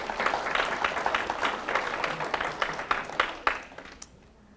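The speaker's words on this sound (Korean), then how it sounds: "우리 4명의 아이들 박수 한번 쳐주세요" A small group in a church Sunday service applauds four children, a short burst of scattered hand clapping that swells, then thins out and stops within a few seconds.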